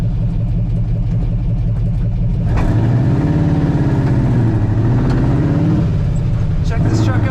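Engine of a 1955 Ford F100 shortbox truck with a three-on-the-tree manual, rumbling loud and close as it builds speed, the pitch rising through gears with steady mechanical drone.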